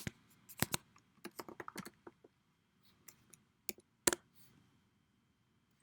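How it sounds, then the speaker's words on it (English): Typing on a computer keyboard, about a dozen close, crisp key clicks in uneven bursts, with one louder tap near the end and quiet gaps between. "Let me just type it in Google."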